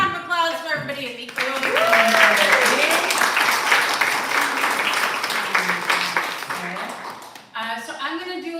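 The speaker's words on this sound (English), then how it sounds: "one more round of applause for everybody" An audience at a live evening show gives a round of applause, a dense wash of clapping that swells, holds, then fades, with a person talking at the start and again as it ends.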